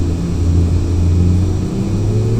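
Turboprop engines of a Carenado King Air C90 in X-Plane 11 build steadily as torque rises, a loud continuous droning hum with rising tonal whine, close and alone without talk.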